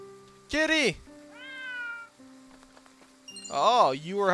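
A cat meows in a video game: a clear meow, a softer higher meow and another loud meow, spaced over a few seconds against a faint steady game tone.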